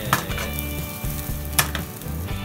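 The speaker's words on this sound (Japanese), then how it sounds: "エリンギ入れていきます。 軽く炒めていきます。" King oyster mushrooms sautéing over medium-low heat in a pan, a soft steady sizzle with light stirring clatter and a few louder scrapes, no talk.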